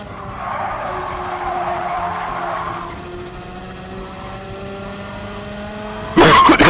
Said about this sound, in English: All I can hear is skidding!